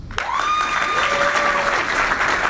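A crowd applauding steadily, dense clapping that stays loud throughout, with a sustained whistle-like tone sliding through the first half.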